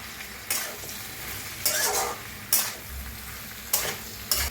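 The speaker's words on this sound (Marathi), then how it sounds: "भाजी सगळी एकदा मिक्स करून घेऊया" A spatula scrapes and stirs frying potato and aubergine in a pan, in five separate bursts over a soft, steady sizzle. No one speaks.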